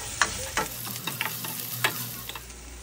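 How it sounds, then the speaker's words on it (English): Garlic sautés in hot oil in a pan for a Filipino ginataang sitaw at talong dish, a steady close sizzle broken by several sharp scraping stirs of a utensil against the pan, with no talking. "I'm gonna saute the garlic."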